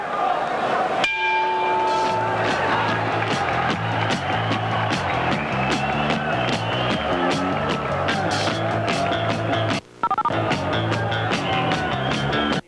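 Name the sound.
boxing bell ending the round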